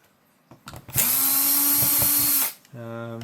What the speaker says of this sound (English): I've got 8 lights to do, so I'm going to use a drill.